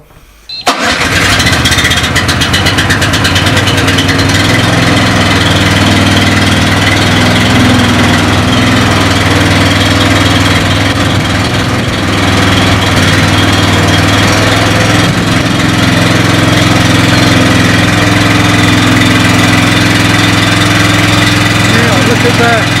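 A bushfire water pump engine starts and then runs loud and steady, coming up to pressure with a constant droning roar that stays close throughout.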